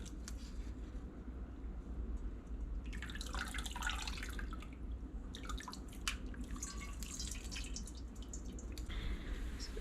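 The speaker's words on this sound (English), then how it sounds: "I'm gonna strain the curds from the whey here." Homemade mozzarella curds are strained from the whey in a cheese bowl, and liquid drips and trickles in bursts close by over a low steady hum, with no one talking.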